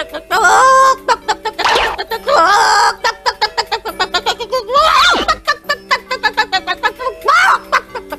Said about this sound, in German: Was gackerst du so?